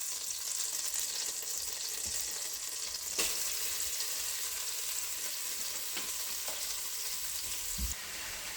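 Celery, carrots, onion and garlic sizzle steadily in a hot pan of oil and butter, a continuous close frying hiss with occasional soft stirring clicks and no talking.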